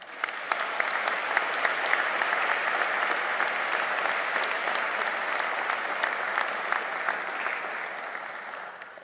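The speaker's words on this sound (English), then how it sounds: "So, graduates, a round of applause for your family and friends." Graduates at a Liverpool University graduation ceremony applaud their family and friends, with a full hall of steady, dense clapping that holds level and then gently fades.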